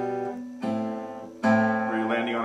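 An acoustic guitar plays a song's intro with an added harmony on the second string: three plucked notes and chords, each ringing out and overlapping the last.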